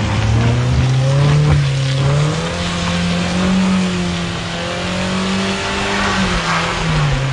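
A car engine revs and strains at low pitch, loud and close, with the engine note rising and falling steadily on a mountain drive through the Serra da Bocaina, where the car is reversing and working to pull free.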